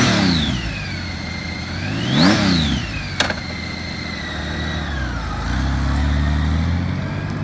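The 1800 engine of a 2006 Honda Gold Wing Navi ABS touring motorcycle idles, then revs up and back down twice in quick blips before settling into a smooth, close idle.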